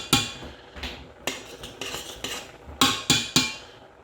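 Spices such as turmeric being stirred into a pan with a metal utensil, several sharp scraping clinks against the pan in an irregular rhythm, close and clear with no talk.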